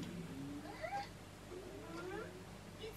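A rescue cat meows and caterwauls in a series of drawn-out, rising and falling cries, fairly close, with a steady low background hum and no talk.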